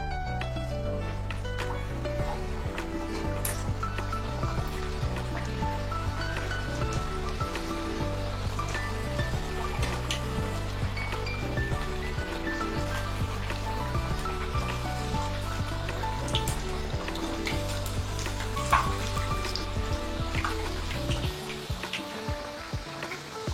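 Puris fry in hot oil over a low to medium flame, giving a continuous soft sizzle and crackle. The sound holds steady and fairly quiet for the whole stretch, with a low tonal hum underneath.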